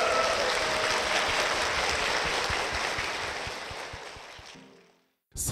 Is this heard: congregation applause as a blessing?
yes